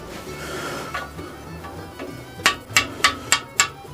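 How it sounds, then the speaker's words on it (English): Chisel struck with a hammer to loosen a stuck part on a 1965 VW 1200 40hp engine during teardown: a few soft taps, then five sharp, evenly spaced metallic blows close by, with no talking. "I got my chisel and I just went around and"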